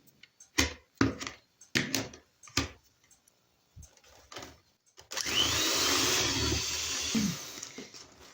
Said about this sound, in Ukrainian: І це все гарненько збиваємо міксером.